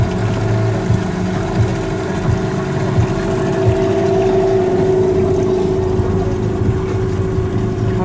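Outboard motorboat engine running on a river, one of two motors working after the other failed on fishing nets; a steady droning hum with constant pitch, close and continuous throughout.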